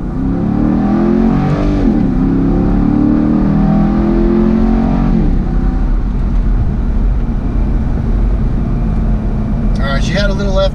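A 2013 Corvette Grand Sport with an automatic transmission accelerates hard from 0 to 60, its engine note climbing through two loud rising sweeps with a gear change between them, then settling into steady road and engine roar close by.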